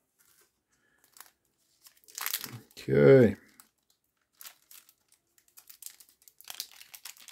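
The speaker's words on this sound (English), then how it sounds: "I had to get out the scissors." Scissors cut into a glued-shut Pokémon tin package with a short rasp and a heavier crinkling snip, followed by scattered small plastic rustles. A voice speaks briefly.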